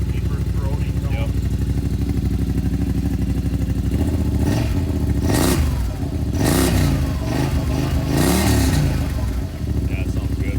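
A 2021 Yamaha Rmax 1000 side-by-side engine revs with a deep, growly, throaty exhaust, rising and falling in several bursts near the listener while voices talk over it.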